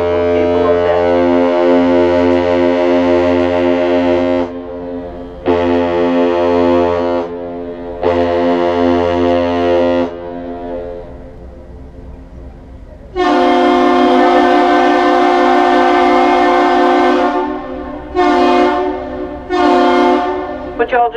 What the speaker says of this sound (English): Ship initiates a greeting with one long blast, followed by two short blasts, and the bridge responds with the same thing.